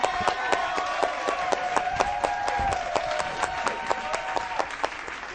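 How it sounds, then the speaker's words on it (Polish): Studio audience applauding on a Polish comedy show, steady rhythmic clapping with a sustained tone running underneath, moderately loud and continuous. "Jeszcze raz gorące brawa."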